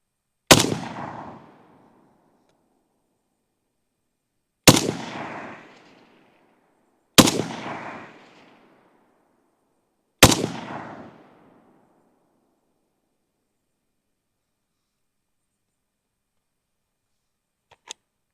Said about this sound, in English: we're gonna go ahead and shoot this target